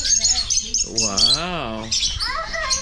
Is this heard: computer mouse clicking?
no